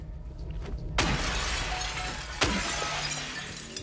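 Glass windows shatter in a monster video game: two sharp, loud crashes about a second and a half apart, each trailing into a bright tinkle of falling shards over a steady low rumble of game ambience.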